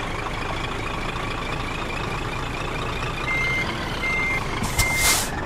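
Reversing beeps from a Scania truck in a driving simulator game, a faint repeated electronic tone over a steady idling engine hum, with a brief hiss near the end.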